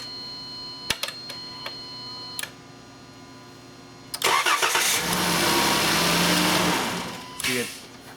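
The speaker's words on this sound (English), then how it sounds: "It should come on as soon as I'm cranking. It should be running." A VW Routan or Chrysler Town and Country minivan with a fuel pump relay delay problem cranks briefly after a few clicks, then its engine catches and runs, loud and close, with a rising rev before settling.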